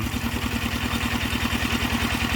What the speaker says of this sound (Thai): เร่งเร่งเครื่องในรอบที่สูงกว่าเดิม